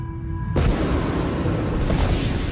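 A supernova explosion shockwave rendered as a sound effect: a loud, sustained roaring rumble that bursts in abruptly after a faint tonal hum and holds steady with dense noise to the end.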